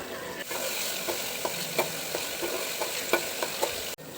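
Coconut mixture being stirred in a pan while making virgin coconut oil, a steady close sizzle broken by light, irregular scraping strokes, with no voices.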